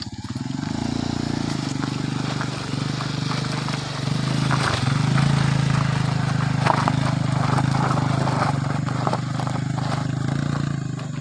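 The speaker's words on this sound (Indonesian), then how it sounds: "Di sini saya berjalan mengendarai motor dengan jarak tempuh lebih kurang" Motorcycle engine while riding on a roughly forty-minute trip to a remote school, a steady low drone with rattling and wind noise that stays loud and continuous throughout.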